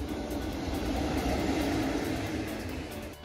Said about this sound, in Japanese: 他にも横須賀線を走る成田エクスプレスも通過します。